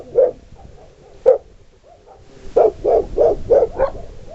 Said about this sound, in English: And this is Nelly that's barking